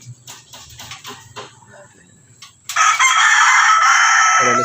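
Chickens, with soft clucking and faint background sounds at first, followed by a loud, close rooster crow that holds for the last couple of seconds.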